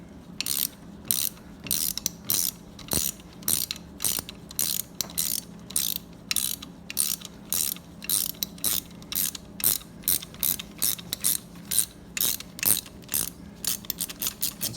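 Ratchet clicking in quick, regular bursts while undoing a valve spring compressor on a Ford 302 V8 engine, sharp close metallic ticks repeating steadily with no talking.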